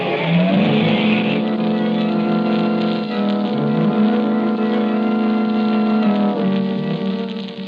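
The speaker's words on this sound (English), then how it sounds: "Away in his fast motor car sped the Blue Beetle" A fast motor car speeds away as a sound effect in a 1940 radio drama: a loud, continuous engine drone with slowly shifting pitch that holds steady throughout, with no voices.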